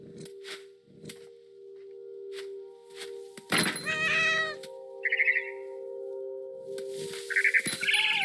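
A cat meows clearly once near the middle in the video game What Remains of Edith Finch, with a few brief high chirps afterward, over quiet background music and muffled voices.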